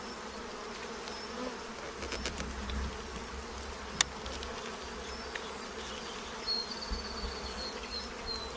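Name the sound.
bees in a hive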